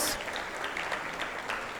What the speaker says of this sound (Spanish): Adelante, un aplauso para Julia.